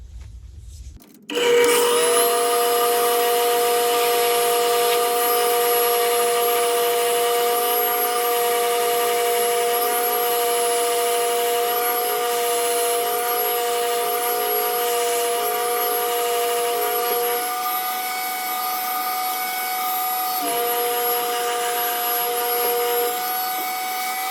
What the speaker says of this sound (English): we'll begin drilling